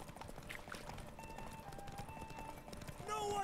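Roach, the horse in The Witcher 3: Wild Hunt video game, trots with a steady, fairly quiet clip-clop of hooves. The hoofbeats continue under in-game voices speaking throughout.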